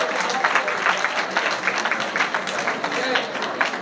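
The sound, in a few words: audience applause for sophomores at school awards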